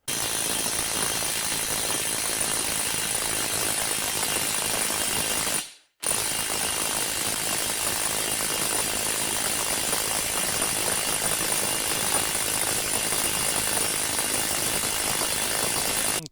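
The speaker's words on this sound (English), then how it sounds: "I didn't think that my cordless impact wrench had that much oomph to it." A cordless impact wrench drives a Harbor Freight Maddox pipe expander in a loud, rapid, continuous rattle of hammering blows, with one short pause partway through and then a long second burst, with no voices.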